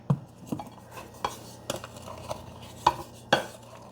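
A utensil taps and scrapes against a bowl in a slow, uneven rhythm as cornbread batter with added salt is mixed, soft and close, with several distinct clinks standing out over a low background hum.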